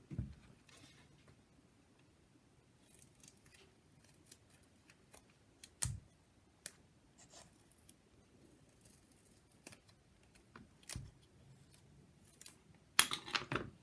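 Scissors cut a small piece of craft material in half, with faint, sparse snips and light handling clicks spread over a quiet stretch and a louder cluster at the end.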